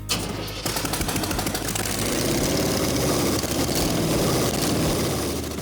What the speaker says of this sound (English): This engine sounded good.